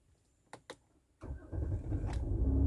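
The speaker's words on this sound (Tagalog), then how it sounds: "At start ulit natin yung makina." A car engine stalls and is restarted. After two brief clicks, the starter catches in one go and the engine settles into a rising, steady idle, close and alone.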